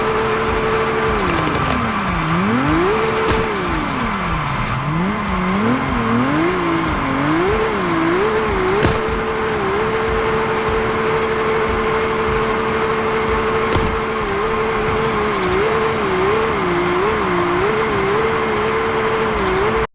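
A drifting car in the mobile game CPM2 holds a loud, steady engine drone while tires squeal and the pitch swoops up and down through repeated slides, with no talk.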